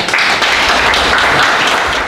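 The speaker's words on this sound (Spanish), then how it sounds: "Lo recibimos con un caluroso aplauso" Warm applause from an audience fills a university auditorium at the opening of an economic and administrative engineering week, greeting the first presenter with a continuous, loud wash of clapping.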